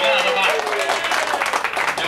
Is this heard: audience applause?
yes